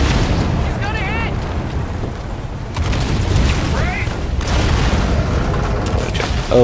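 An enemy ship crashes and explodes in Call of Duty: Infinite Warfare, a heavy, rolling boom and roar under constant wind-like rush, with faint whistling tones and loud, sustained low rumble throughout.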